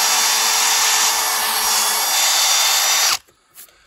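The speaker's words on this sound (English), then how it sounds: "So you just keep on drilling your holes" A power drill bores holes into a mushroom log for plug spawn inoculation, whining loud and steady for about three seconds before it abruptly cuts off, leaving quiet handling noise.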